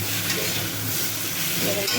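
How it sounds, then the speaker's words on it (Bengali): A pan of fish curry with cauliflower cooks on the stove, giving a dense, constant sizzling and bubbling hiss at moderate volume that carries on unbroken and alone. "এই দেখুন মাছের ঝোল রান্না হচ্ছে ফুলকপি দিয়ে"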